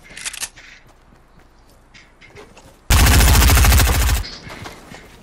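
Automatic assault rifle fire in Fortnite Battle Royale: one loud, dense burst of rapid shots lasting over a second, with quieter game sounds and footsteps before and after.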